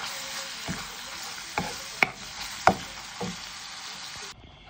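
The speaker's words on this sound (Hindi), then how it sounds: "मैंने तेल डाल के पैन में तो लहसुन को फ्राई कर लिया है" Garlic frying in oil in a pan gives a soft, steady sizzle, punctuated by a few sharp clicks and taps of a utensil against the pan, with no voices.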